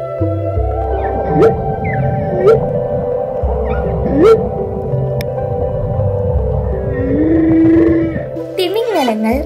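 Whales call underwater in a series of rising, moaning tonal sweeps and groans over a low steady hum, spaced a few seconds apart with a longer upward swoop near the end.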